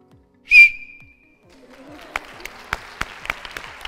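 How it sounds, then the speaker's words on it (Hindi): A single sharp, piercing whistle rings out loudly in a TV studio audience, then fades as scattered clapping and crowd murmur follow. "जरा सीटी सुनते हैं जी।"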